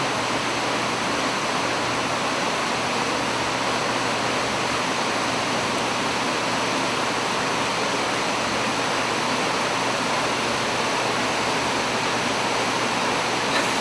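Constant rushing roar of a waterfall in Pokhara, dense and unchanging throughout, with no other sounds.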